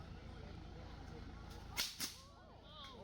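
Two sharp whip cracks ring out close together at a cultural show in Rabaul, Papua New Guinea, striking over a steady outdoor crowd murmur, with faint chatter trailing afterward.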